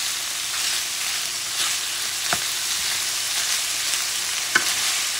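Chorizo sausage, potatoes and onions fry in a pan with a steady, even sizzle, broken by a few sharp scrapes and taps as a utensil stirs the mixture, close up and with no talk.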